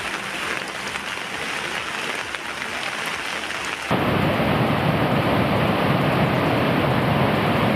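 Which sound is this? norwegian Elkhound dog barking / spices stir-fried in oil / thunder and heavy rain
thunder and heavy rain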